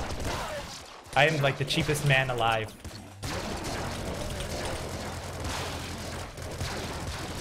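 The jackhammer weapon in the video game Nuclear Throne fires in a dense, rattling stream of rapid impacts with crunchy game effects, continuing steadily after a man's brief loud speech near the start.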